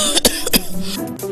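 Two harsh, close coughs a fraction of a second apart, followed by a brief throat-clearing rasp, in a cough medicine advertisement.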